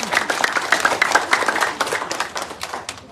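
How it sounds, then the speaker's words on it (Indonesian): Villagers clap their hands together in agreement at a community gathering in a Papuan village, a dense, steady patter of many hands lasting several seconds with faint voices mixed underneath. "Kalau setuju tepuk tangan toh."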